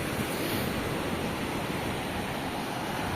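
Steady broadband rush of ocean surf along the shore near San Joaquin, a continuous wash of waves with some wind, loud and close, with no voices.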